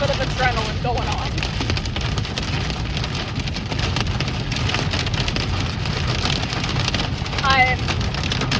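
Pea-sized hail drums steadily on a car during a storm, a dense continuous patter close around the vehicle, with faint speech and a few squeaky sounds heard briefly.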